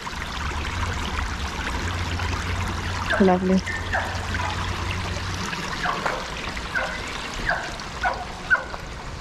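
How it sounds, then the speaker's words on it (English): Steady trickling stream water flows along a residential street in Tanteen, St. George, Grenada, a continuous gentle wash under a voice speaking briefly, with faint background street activity. "I'm really loving the sound of the water though"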